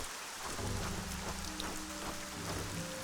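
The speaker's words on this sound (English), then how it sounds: "Damn rain!" Steady, dense rain hissing in the fantasy game Arcania: Gothic 4, a constant wash of drops with low rumbling tones beneath, even and unbroken throughout.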